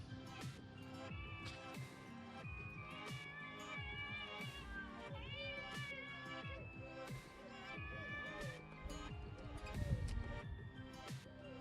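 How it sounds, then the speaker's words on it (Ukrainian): Cats meow repeatedly near a kitchen where salmon spines are being cooked, high wavering calls overlapping one another throughout against a busy background. "Мої ну кішки вже чекають і перші знімають пробу."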